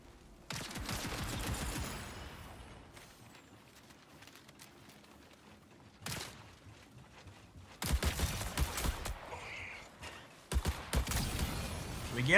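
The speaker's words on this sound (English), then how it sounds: "Someone's shooting at our ally." Bursts of video game gunfire, loud rapid volleys broken by quieter stretches, several separate clusters of shots spread over the stretch.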